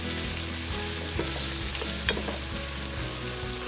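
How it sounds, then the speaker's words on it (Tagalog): Shrimp and chicken liver fry in a pan for a Kapampangan creamy sipo egg dish, a steady close sizzle running throughout with a few scraping stirs of a utensil and no voices. "At naluluto na yung ating shrimp at yung ating chicken liver."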